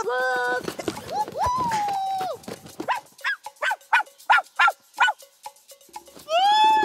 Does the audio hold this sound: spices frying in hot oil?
no